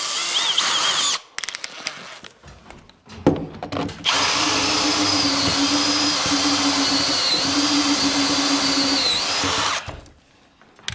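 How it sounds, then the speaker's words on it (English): A power drill spins a thin step (uni) bit through a window frame, a loud continuous whine lasting several seconds, preceded by short bursts and clunks and ending abruptly. "now we're gonna go with the thinner uni bit and get that up there"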